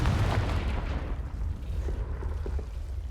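A Confringo explosion spell cast in Hogwarts Legacy bursts with a heavy low boom at the start, then rumbles and crackles into a steady low roar that continues throughout with faint scattered pops.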